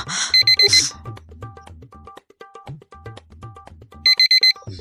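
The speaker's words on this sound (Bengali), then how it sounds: "এই অ্যালার্মটা তো বড্ড বিরক্ত করছে" An alarm clock rings loudly in rapid repeated electronic beeping bursts, close and insistent, with short gaps between rounds and a louder flurry at the start and end.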